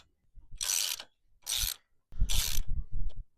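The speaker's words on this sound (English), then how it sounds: "Loosen up the nuts on both sides." A hand tool loosens the rear wheel nuts on a bicycle with three separate ratcheting, grinding bursts about a second apart, close and clear with no voices.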